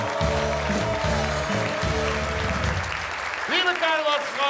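Carnival audience at a Cologne puppet theatre claps steadily under loud brass band music, with the applause fading as the band swells and a voice calls out near the end.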